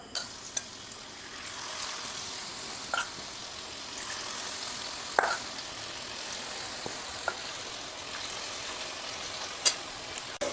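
Masala-coated cauliflower frying in sunflower oil in a pan, a steady low sizzle with occasional soft pops and faint clicks, fairly quiet and close, with no talking.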